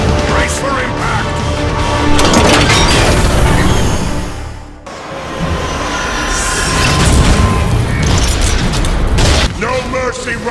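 A heavy impact explosion in the Transformers Cybertron video game, a loud, dense roar filling the whole clip, dipping briefly near the middle before surging back, with voices and game noise mixed in.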